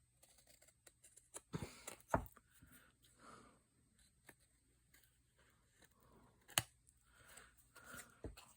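Scissors snip paper while a tag journal is trimmed, heard as a handful of short, crisp cuts spread irregularly over quiet crafting-table rustle.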